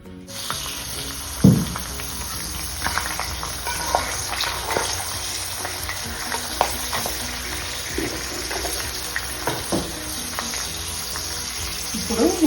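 Peeled garlic cloves fry in oil for a pickle tempering, a soft, steady sizzle with scattered pops and spoon clinks, moderately close with no talk.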